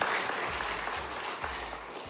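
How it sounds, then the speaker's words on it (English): Brief burst of audience applause at a public event in Malawi, a dense, fairly loud patter of clapping throughout with faint voices mixed in. "Let's give her another round of applause."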